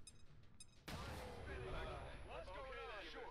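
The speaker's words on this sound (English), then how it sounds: "That was a flashbang" A flashbang grenade goes off in the video game XCOM 2 War of the Chosen: a sudden loud burst that settles into a sustained ringing, noisy wash, with someone talking over it.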